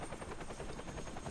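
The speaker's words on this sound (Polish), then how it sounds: "Helikopter powinien się obniżyć." A helicopter in the shooter video game Project Blackout makes a steady, rapid rotor chop, a low, continuous thumping pulse at moderate distance with no voices over it.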